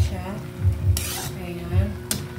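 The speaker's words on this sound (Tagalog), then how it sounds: "Ayan, i-mix lang natin siya." Pakbet vegetables with a sweet syrup being stirred in a pan, a spoon scraping and knocking in short repeated strokes over a soft sizzle, with no talking.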